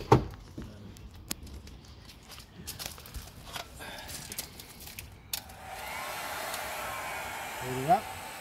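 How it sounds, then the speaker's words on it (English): A heat gun softening advertising stickers on a VE Commodore outdoors: a quiet, steady airy blowing that starts midway and holds to the end, preceded by scattered handling clicks and scrapes, with a brief voice near the end. "So I've got my heat gun"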